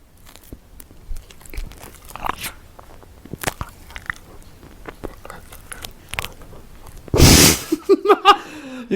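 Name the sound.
crunch of biting cream pie with chocolate shavings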